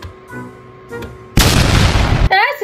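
A video game explosion on a role-playing server bursts in loud and sudden after quieter game sounds. A roaring blast lasts about a second before cutting off into more game noise.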